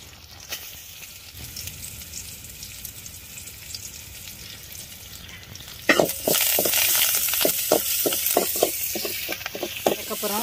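Tamarind solution poured into chilli, garlic and curry leaves frying in oil for a tongue fish dish, a quiet sizzle that abruptly swells into loud bubbling spatter and crackle, up close with no voices.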